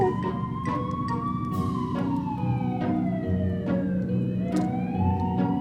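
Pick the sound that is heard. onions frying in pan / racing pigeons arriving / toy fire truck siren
toy fire truck siren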